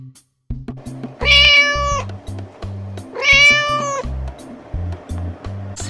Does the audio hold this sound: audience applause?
no